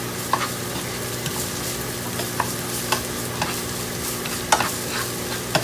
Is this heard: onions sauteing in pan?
yes